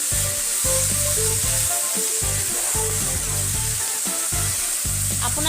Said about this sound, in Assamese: বিলাহীখিনি কোমল হ'লে তাত বন্ধাকবিখিনি দি দিব, দি ভালকৈ সকলোখিনি মিহলাই দিব।